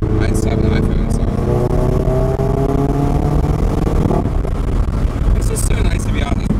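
Face-lifted MK7 car engine revs and accelerates under steady loud road and wind noise, its rising drone heard from inside the car for several seconds.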